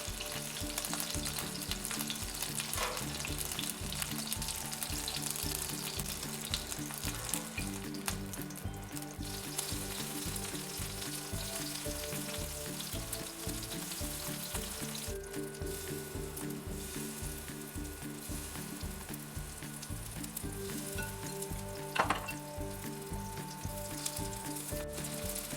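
Shrimp and vegetable tempura pan-frying in oil: a steady, dense sizzle and crackle continues throughout, close and even, with faint clinks of utensils and no voices.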